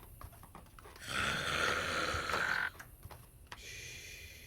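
A grandfather snores, one long rasping snore rising loud for about two seconds before cutting off, close by against faint background clicks, with no talk.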